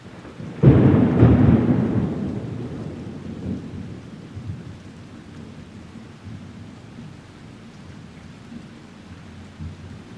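Thunder booms from a storm during a tornado chase, one loud, close rumbling crack that rolls away slowly, followed by steady rain.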